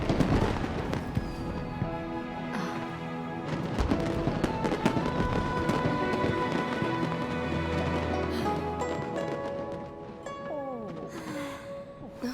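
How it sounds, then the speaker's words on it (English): Fireworks go off in the video game Genshin Impact, a dense crackling, popping barrage layered over a bright musical score, sustained throughout with no speech. "Way over there, a firework that looks just like a pig!"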